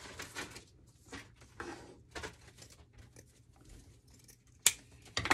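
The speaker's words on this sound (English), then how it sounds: "I'm gonna definitely cut the strings down, so let me do that." Scissors snip through strings in a few soft, close cuts spaced across the moment, followed by a sharper click near the end, with no talking.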